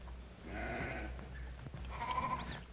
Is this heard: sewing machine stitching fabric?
no